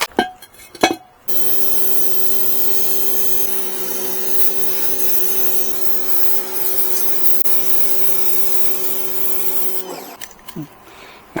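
A pressure washer sand blaster sprays wet sand in a loud, steady hiss with a constant motor whine underneath, running unbroken for several seconds before cutting off, with brief clatter just before and after.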